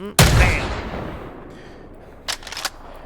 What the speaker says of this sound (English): So much easier with the rifle stabilization. I had forgotten that was a thing with my first shot there.